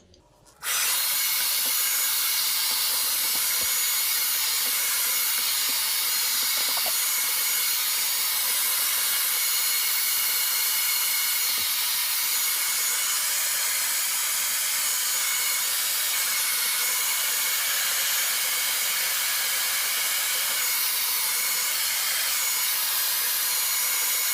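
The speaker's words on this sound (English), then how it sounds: "I'm just going to hover diffuse on medium heat and medium" A hair dryer with a diffuser, set to medium heat and medium speed, hovers over curly hair. After a brief click at the start it gives a loud, steady whooshing roar that runs unbroken throughout.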